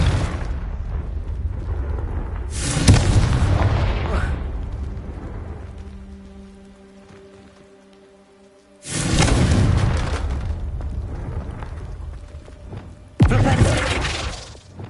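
Confringo spell blasts in Hogwarts Legacy gameplay: three loud, booming explosive bursts, the first and second each rumbling out over a couple of seconds before fading, the last sharp and abrupt, with tonal game sounds between them.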